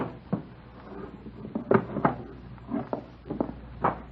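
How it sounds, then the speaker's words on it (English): Wooden bedroom dresser drawer being pulled open and pushed shut, a handful of dull knocks and sliding thumps at close range in a quiet room, no voices. "It's in the bottom drawer of the dresser."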